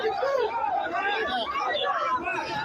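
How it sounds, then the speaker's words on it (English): Many people shout and call out at once outdoors at an active shooter scene at a Texas school, a dense, continuous crowd hubbub of overlapping raised voices. "So they're all yelling out there."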